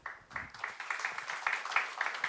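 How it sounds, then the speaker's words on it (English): A conference audience at a cybersecurity talk claps to welcome a speaker, a light, fairly faint patter of many hands that builds quickly and keeps a steady crackling rhythm, with no voices. "Request you all to give a big applause to welcome him."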